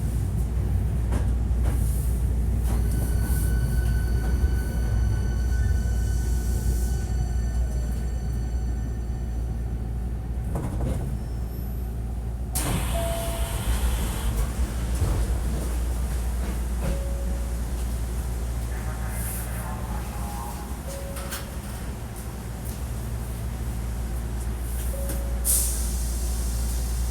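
A Hankyu 1300 series electric train on the Osaka-Umeda to Kita-Senri line, with a steady low running rumble, air-brake hisses and clanks, and faint tones and chimes, recorded from inside the car at moderate level.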